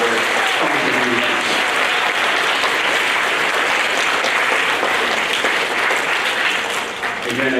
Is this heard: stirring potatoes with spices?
no